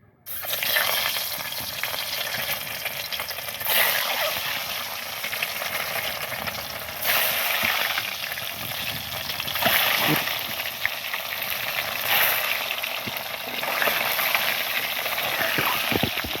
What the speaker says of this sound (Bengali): এই জন্য প্রথমে ডিমটা ভেজে নেব।